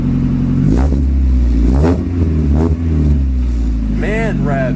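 A Mazda Miata fitted with a new exhaust is revved several times in quick bursts, each one rising and falling with a deep, loud engine note, while a person talks briefly between the revs.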